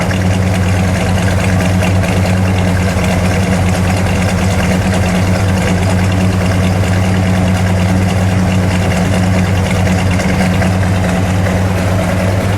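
A 1973 Buick Century Gran Sport with a 455 V8 idles steadily while warming up, a loud, close, even low rumble holding without pause for the whole stretch, with no voices over it.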